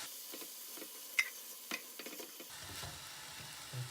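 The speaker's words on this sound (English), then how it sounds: "we're going to add in the chopped tomatoes" Chopped tomatoes dropped into a frying pan with a little oil give a steady quiet sizzle, broken by a few sharp clicks and scrapes of stirring, then a deeper, busier frying hiss once they settle into the pan.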